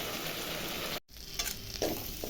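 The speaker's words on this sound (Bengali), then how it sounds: "মশলাটা ভালো করে কষুক" Spice masala sizzles with potatoes in a pan for a rui fish curry, a close, continuous frying hiss that breaks for a brief moment and then resumes, with light stirring scrapes.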